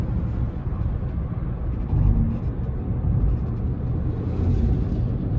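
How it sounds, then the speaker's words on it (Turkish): Inside the cabin of a 2020 Toyota Corolla Dream Multidrive S on the move, tyres drumming over rough asphalt as a steady, loud low rumble that swells in places, with no talk. "Lastikler üzerinde, asfaltta, lastikte çamurlukların altından, muhtemelen davlumbazın altında yalıtım çok kuvvetli olmadığından asfaltın bozuk yerlerinde ses içeriye kuvvetlice geliyor"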